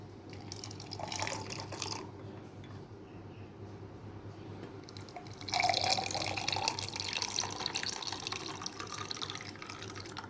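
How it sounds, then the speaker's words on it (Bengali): Watermelon juice pours into a glass as a steady liquid stream, trickling and splashing close by. It grows fuller and louder partway through, with no talk. "এখন আমি জুসটা দিয়ে দিচ্ছি।"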